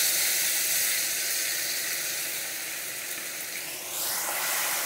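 Tomatoes, two medium-sized and cut up, hit a hot pan for a Bengali vegetarian curry and set off a loud, steady sizzle of hiss and steam that stays close and continuous throughout, with no talking.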